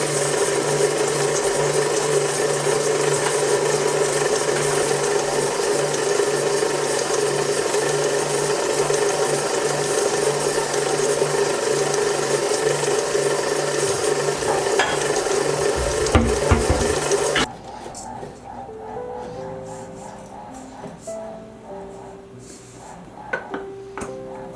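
A kitchen stand mixer stirs food on its lowest speed, a steady close motor whir with a faint rhythmic churn running unbroken for about seventeen seconds before cutting off, leaving light clinks and handling noises.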